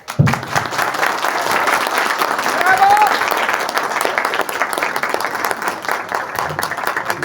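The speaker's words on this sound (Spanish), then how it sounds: "Definitivamente aplausos de pie." A seminar audience on violence in the 21st century gives a standing ovation, dense sustained applause filling the room steadily and loudly throughout, with a voice briefly heard over it.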